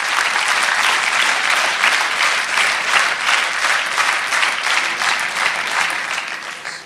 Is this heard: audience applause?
yes